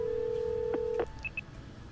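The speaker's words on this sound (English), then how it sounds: "Call him, but the phone rings for a while before it connects." A telephone rings in the video game Ace Academy before the call connects: a steady electronic tone, then a couple of short, clipped beeps.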